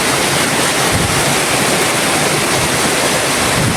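Heavy rain driven by strong wind pours steadily over a yard with plants and mango trees, a dense continuous roar close to the microphone with wind buffeting, no voices.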